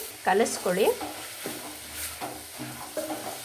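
Chopped beans, capsicum and carrot with curry leaves and salt frying in oil in a pan, with a few loud scraping stirs at first, then softer intermittent stirring over a low sizzle.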